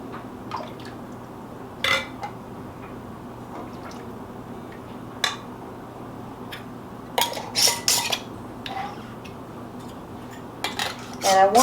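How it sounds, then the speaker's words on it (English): Glass jars handled and wiped down with vinegar in a homestead kitchen, with scattered clinks of glass, soft rubbing and occasional sharp knocks, growing busier toward the end. "I'm wiping them really well with vinegar"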